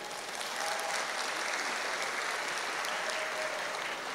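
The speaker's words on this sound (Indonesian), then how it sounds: "Tepuk tangan untuk NU." A lecture audience breaks into applause, a dense, even crackle of many clapping hands that holds steady for several seconds, moderately distant and without any talking over it.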